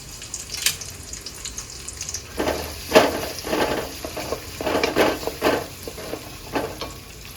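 Garlic frying in a pan for a pickle recipe, with sizzling and stirring scrapes rising and falling over about seven seconds, close and fairly loud, with no talk.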